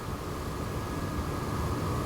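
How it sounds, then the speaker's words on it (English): A SIAI-Marchetti SF260D making a pass in the X-Plane 11 flight simulator: a steady, loud engine and airflow roar with a thin, continuous whistle tone running through it. "Somebody asked me about that whistle. That is normal in the Siai Marchetti."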